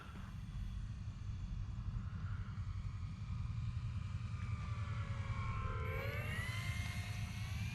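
An FMS Ranger 1800mm Cessna RC model plane attempting a wheelie touch and go, its electric motor whining steadily with a rising and falling pitch as it passes, over constant outdoor rumble.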